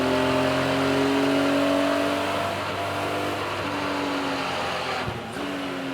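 BMW race cars lapping Donington Park, one engine droning close and loud, then easing off as it passes and fades, with a brief thump near the end and more engine noise carrying on behind.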